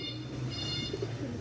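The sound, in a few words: pigeons cooing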